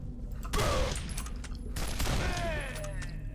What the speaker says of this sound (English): You took 2 shotgun blasts?